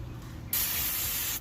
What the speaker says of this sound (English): Just spray the surface down.